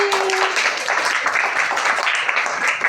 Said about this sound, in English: Oh, clapping.